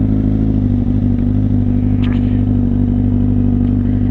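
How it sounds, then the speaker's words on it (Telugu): A Kawasaki superbike engine idles heavy and loud just after a cold start, a steady deep throb with a constant low hum and faint mechanical clatter, up close with no talking. "ఫస్ట్ స్టార్ట్ చేసినప్పుడు ఇంజన్ టెంపరేచర్ 40 degrees వచ్చేంత వరకు సౌండ్ హెవీగా ఉంటుంది"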